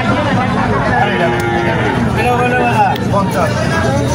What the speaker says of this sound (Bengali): বলদ গরু না? কত চান জোড়া?